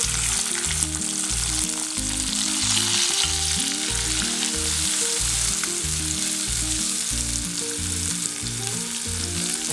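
Tomato, green chilli and whole spices sauté in hot oil with a loud, continuous sizzle and crackle, steady throughout with no voices.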